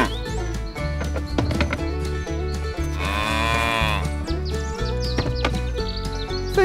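Cartoon-style cows mooing on a strawberry farm, a drawn-out moo rising over bouncy background music, with brief chirpy effects around it.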